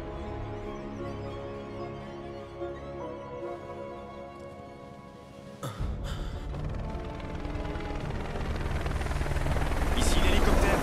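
Helicopter in the Final Fantasy 7 Remake video game, a steady rotor and engine drone that swells louder toward the end, mixed with game music and effects.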